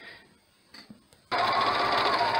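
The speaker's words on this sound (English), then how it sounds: "And then I continue stitching, and every time you start and stop stitching, you're going to need to back stitch." A sewing machine stitches a child's cloth mask. A few soft handling clicks come first, then the motor starts a steady, loud, close whir that runs to the end.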